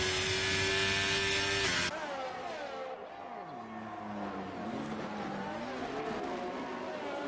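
Race cars in a racing video game at the Canadian Grand Prix, engines droning loud and continuous with shifting pitch as they accelerate and change gear, no talk over them.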